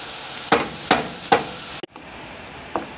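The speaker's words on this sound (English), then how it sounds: "Okay, fry it well. Fry until well done." Onions for oxtail stew frying in a pan, a steady sizzle broken by three sharp, evenly spaced spatula knocks, a brief drop, then a softer sizzle and one more tap.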